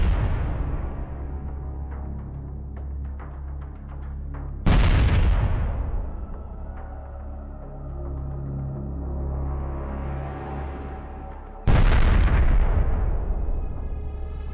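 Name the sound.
explosions destroying a tank and IFV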